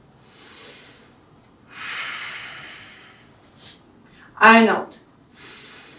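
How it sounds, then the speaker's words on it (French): Several deep breaths during a yoga class, broad airy inhales and exhales rising and fading at a steady pace, with a short spoken phrase breaking in partway through. "On prend 3 gros respires ici"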